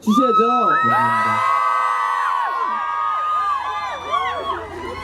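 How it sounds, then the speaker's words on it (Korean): Concert crowd at an outdoor park performance cheering and shouting, many high voices whooping and yelling together in a loud, sustained roar that swells and falls. "외치는 여러분들 함성 한번 보내주셔야죠"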